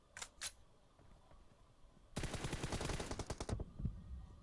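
Gunfire in the mobile battle game PUBG Mobile: two quick distant shots, then a sustained rapid automatic burst lasting over a second, sharp and fairly loud, with no talking.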